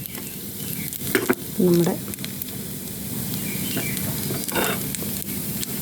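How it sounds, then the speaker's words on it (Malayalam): Spices frying for the tempering of a Kerala-style jackfruit curry give a steady close sizzle throughout, with a few brief stirring clatters near the start and a faint voice speaking over it. "നന്നായിട്ട് വറുത്തിട്ടുണ്ട്."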